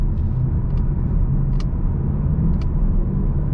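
A 2022-2023 Ford Mustang GT with a 10-speed automatic hums and burbles steadily while driving, a low continuous drone with a few faint clicks, no talking.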